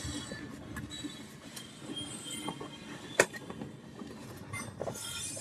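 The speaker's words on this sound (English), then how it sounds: "I honestly don't even remember the last time I heard a train." A train passing outdoors, heard as a steady low rumble with faint wheel clatter and a sharp metallic clink partway through, with no talking.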